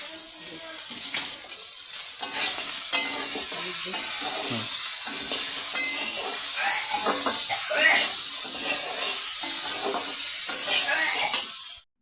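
Eggplant laid over bori dumplings sizzles and hisses steadily in a hot pan while being stirred, a loud, continuous frying sound close by with brief scraping stirs throughout.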